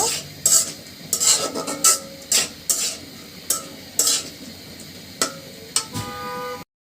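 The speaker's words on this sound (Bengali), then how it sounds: "দিয়ে দিচ্ছি এর ভিতরে আলু এবং টমেটো। মশলার সঙ্গে খুব সুন্দর করে কষিয়ে নিব।" Potatoes and tomatoes being sautéed with spices in a pan, heard as a spoon stirring and scraping in repeated strokes over a soft sizzle, with a few clanks of metal utensils.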